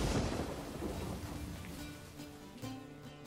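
Rain and rolling thunder from the video game Witcher 3, a loud rumbling burst at the start fading into a steady patter of rain with faint tonal music underneath.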